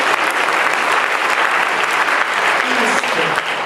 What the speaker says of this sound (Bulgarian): Let's give Him a clap offering.